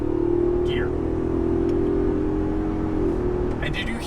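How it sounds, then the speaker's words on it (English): A 2021 Ford F-250 Super Duty Tremor with a 7.3L V8 and a 10-speed automatic, driven in manual mode, gives a steady close engine drone that shifts subtly in pitch as a gear change comes through after a delay. "And did you hear how long after I hit the click, it actually changed the gear?"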